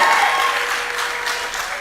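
A crowd at a political meeting in Caroni East applauds steadily, dense continuous clapping with a few cheers, loud and close throughout.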